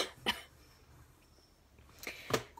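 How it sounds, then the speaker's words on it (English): Two short, sharp coughs, one near the start and one near the end, separated by quiet room tone; close and fairly soft. "I'm so sick of this bloody cough."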